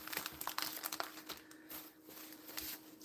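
A plastic bag of freshly ground meat is folded down in a home kitchen, giving faint, close crinkling and rustling in irregular bursts with no talk.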